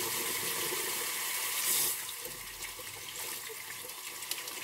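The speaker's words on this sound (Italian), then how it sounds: "Facciamo scorrere l'acqua calda" Hot water runs from a tap early in the morning while a thick-handled 30 mm shaving brush is wetted, a steady moderate rush of flow that eases slightly partway through.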